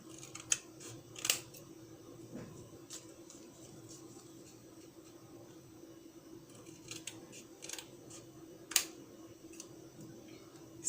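Scissors cut out the striking strip from packaging, giving sparse, faint snips and small clicks spread over a quiet room background.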